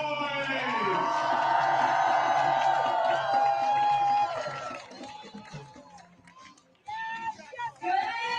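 Large protest crowd at a Hands Off rally cheering and whooping loudly for an incoming speaker, a sustained roar that fades over several seconds into scattered shouts and claps.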